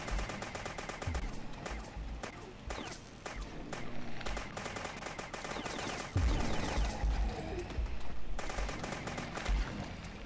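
Rapid automatic gunfire rattles in the Zomblocks video game, dense bursts of close shots with short gaps between volleys, loud and sustained with no voices over it.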